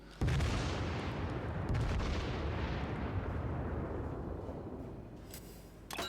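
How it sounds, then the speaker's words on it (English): A battleship's main guns fire in World of Warships: a huge, sudden boom that rolls out into a long, slowly fading rumble, then a second sharp blast near the end. "the sound of these guns is really, really very nice"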